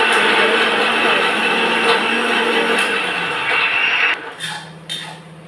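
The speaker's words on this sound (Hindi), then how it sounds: "तेल गरम हो गया था तो मैं यहाँ प्याज भून रही हूँ" Onions frying in hot oil in a kadhai: a steady, loud, dense sizzle holding for about four seconds before dropping away, leaving a softer hiss with a few light clinks.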